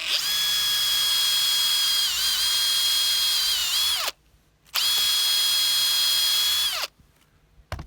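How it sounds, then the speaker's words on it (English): A power drill with a 7 or 8 mm bit pre-drills into timber while building a cabin kit, two loud, close, sustained whining bursts of about four and two seconds, each winding down to a stop, separated by a brief pause. "We're going to pre-drill, and we're only bringing the drill through that far"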